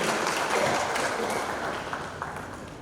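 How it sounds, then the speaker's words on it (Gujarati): A seminar audience applauds to welcome a speaker at a cyber security awareness event, a steady wash of clapping that fades slightly toward the end. "તો આપણે સૌ તાળીઓના ગણગણાટ સાથે આકાશભાઈનું સ્વાગત કરીએ"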